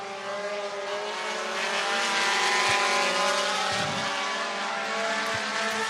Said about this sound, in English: Once again, hot lap qualifying for our front-wheel drive division.